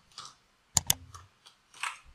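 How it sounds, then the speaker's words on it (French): A computer keyboard clicks with a few sharp key presses, including a quick double tap, as a Ctrl+Alt+E shortcut is entered. The presses sound close and fairly quiet against soft background rustling. "j'appuie sur la touche E du clavier."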